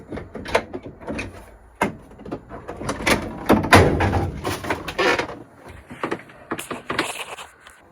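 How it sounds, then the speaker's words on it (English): Repeated loud rattling and banging of a stuck door on a moored boat being shaken and jolted, in irregular bursts of clunks and thuds close by. "Oh, I can't open the door now."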